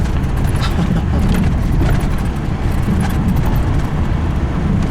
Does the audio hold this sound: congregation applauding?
no